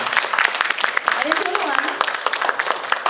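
A convention audience gives a round of applause, dense and steady throughout with a voice faintly present beneath the clapping.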